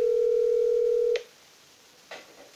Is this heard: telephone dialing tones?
yes